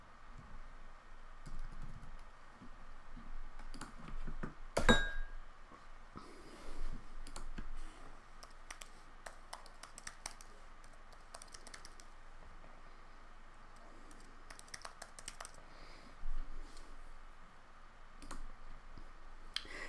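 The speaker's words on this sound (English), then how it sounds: "I will type it for you" Someone types a long email address on a computer keyboard, producing quiet, close, irregular bursts of key clicks with pauses between and one sharper tap, no voices.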